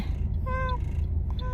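A voice imitates a cat, giving a short meow followed by a second brief mew over a low background rumble.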